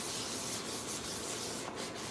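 Continuous close-up sanding of a 3D-printed Iron Man neck piece, a steady loud abrasive rubbing with a few stronger strokes, no voices.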